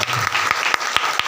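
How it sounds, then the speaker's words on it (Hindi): Loud applause from a congregation at a Hindi-language church healing service, a dense wash of clapping with a few sharp, stronger claps standing out over the steady patter. "प्रभु जी पर जोरदार ताली से धन्यवाद"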